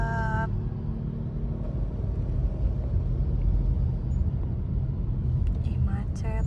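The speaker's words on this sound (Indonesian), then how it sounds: "Wow, padat merayap." Idling and creeping cars in a road traffic jam in Indonesia give a steady low rumble heard from inside a vehicle, with people talking over it and occasional faint brighter noises near the end.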